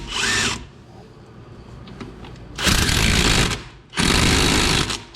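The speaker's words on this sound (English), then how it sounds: "Now I'm going to put the impact on and get it as tight as I can" Impact wrench tightening a strut nut on a Toyota Camry, three loud short bursts of rattling hammering separated by quiet pauses, close up.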